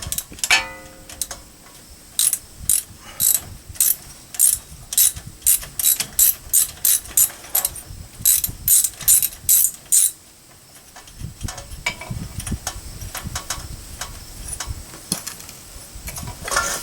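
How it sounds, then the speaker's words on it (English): A ratchet clicks in repeated quick strokes while unbolting the brake line bracket on a Chevy Silverado, the sharp metallic ticks coming close and loud in rhythmic bursts with brief pauses between. "That all gets unbolted to allow for enough slack"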